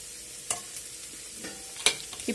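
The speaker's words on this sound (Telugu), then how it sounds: "ఇప్పుడు వీటన్నిటిని బాగా ఫ్రై చేయాలి. వెజిటేబుల్స్ అన్నీ కొద్దిగా ఆయిల్లో కుక్ అయ్యేదాకా ఫ్రై చేయాలి." Chopped onions and shredded cabbage fry in a little oil for veg Manchuria, making a soft, low sizzle broken by a few sharp spatula scrapes and clicks, with no talking.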